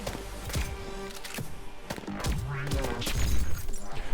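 Gunshots in the VR rhythm shooter Pistol Whip, rapid punchy shots landing in time with a loud pounding electronic music track, mixed with impact and shatter effects.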